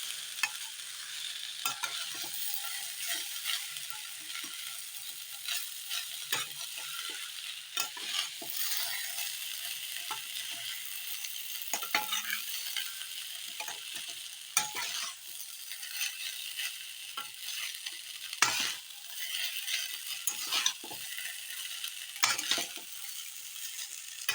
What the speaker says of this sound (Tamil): நல்லா ஒரு குழையாமல் கொஞ்சம் லேசாக அப்படி கிளறி கொடுத்தாக்கா